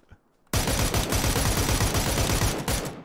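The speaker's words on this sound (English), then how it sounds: "That's the sound of Nacho playing PUBG." Sustained automatic gunfire in the PUBG video game, a dense rapid burst of shots that starts abruptly after a short quiet lead-in and continues loudly for nearly three seconds, with no speech.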